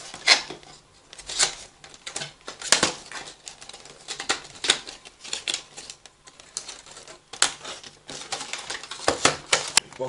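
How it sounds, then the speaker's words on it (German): A wired USB gaming controller is unpacked from its box, with close crinkling, rustling and clattering of packaging and plastic in irregular bursts and brief quiet gaps. "Dann packen wir mal das Ding hier aus."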